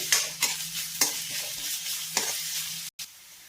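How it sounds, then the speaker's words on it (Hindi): Onion, coarsely crushed garlic and ginger sizzle steadily in a pan, with a spoon stirring and scraping several times at close range before a short silence. "अब हम इसे थोड़ी देर तक भूनेंगे।"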